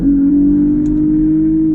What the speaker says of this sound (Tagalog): Mas maganda rin ang tunog ng tambutso ng Lexus